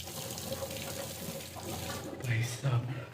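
Cold tap water runs into a sink in the early morning for washing the face, a soft steady flow that swells louder near the end, with a faint murmur underneath.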